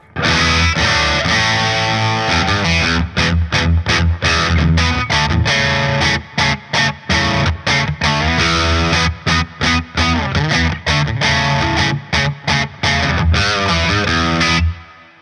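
Electric guitar through a Boss OD-200 hybrid drive pedal set to X-Drive mode, played loud and alone as driven sustained chords followed by rhythmic staccato chugging stabs and a final ringing chord.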